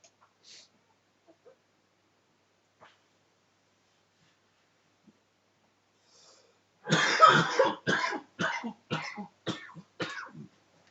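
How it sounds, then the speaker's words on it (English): A burst of harsh, repeated coughing close by, several hacking coughs in a row after a long near-silent stretch with faint small noises. "Oh, that cough."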